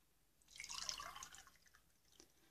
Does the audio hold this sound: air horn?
no